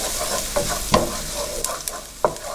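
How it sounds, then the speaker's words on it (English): Minced garlic fries in melted butter in a pan for steamed mussels, with a continuous close sizzle. A few sharp spoon taps and scrapes break in as it is stirred, and no one speaks. "So now we're going to cook the garlic until it's slightly yellow."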